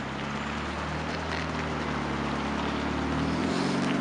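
An old MCI coach powered by a Detroit Diesel 8V92T engine runs with a loud, continuous, rough diesel roar and a deep rumble, steady throughout with a slight rise near the end.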